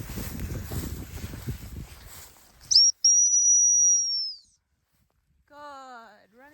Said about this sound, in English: So as the situation dictates, you might need to give her more or less whistles.